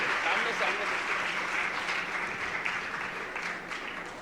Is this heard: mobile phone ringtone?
no